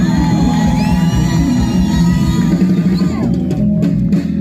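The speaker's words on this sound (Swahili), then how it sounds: "Watu wa kwa DC, pigia Yesu vigelegele." A church congregation in DC ululates in praise to Jesus, a loud, continuous wash of high trilling voices and whoops from a crowd that thins out toward the end.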